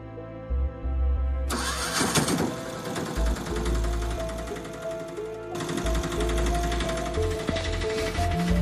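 An auto-rickshaw engine cranks and catches, then settles into a loud, rattling, steady idle close by, with a slight shift in tone partway through. No one speaks.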